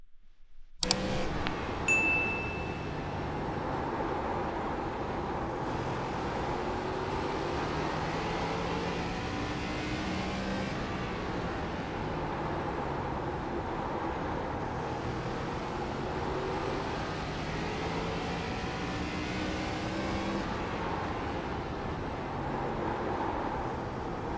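A race car engine in the iRacing sim drones steadily through a full lap of North Wilkesboro in an ARCA car, a continuous sustained roar with subtle pitch swells through the corners, heard alone with no talking.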